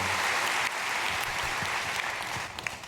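A church congregation claps together during a dawn prayer service in a dense burst of applause that holds steady, then thins slightly near the end.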